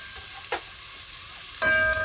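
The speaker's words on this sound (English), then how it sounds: "Why does onion always smell so good when it's on the fry pan?" Onion frying in a fry pan at a campsite cook-up, a soft steady sizzle with a couple of light stirring scrapes, then a brighter louder crackle near the end.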